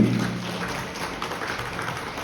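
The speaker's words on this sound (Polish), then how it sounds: "Duże brawa, duże brawa, kochani." A crowd applauds at a harvest festival parade in Rajcza, a dense, steady wash of clapping that holds at an even level throughout.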